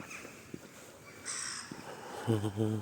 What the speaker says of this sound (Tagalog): And there's the uwak. There's a lot of uwak.